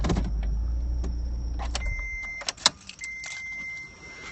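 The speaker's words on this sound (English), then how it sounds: "Fuck off, car." A car rumbles past close by with a low engine roar that fades after about two seconds, followed by scattered clicks, jingles and faint electronic tones.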